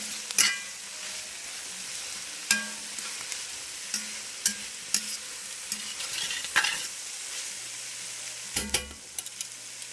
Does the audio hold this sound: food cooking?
yes